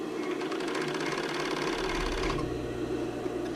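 Sewing machine running steadily while stitching the side seam of a tankini sports bra, a close continuous motor whir with rapid needle rhythm that shifts slightly in tone partway through.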